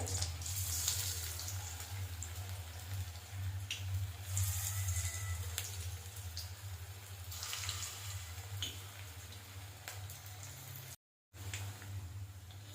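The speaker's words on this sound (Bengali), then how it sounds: "তেল গরম হয়ে গেছে এবার আমি কোপ্তাগুলো একে একে ভেজে নেব" Koftas fry in hot oil over medium-low heat, giving a steady soft sizzling hiss over a low background hum, with a brief dropout near the end.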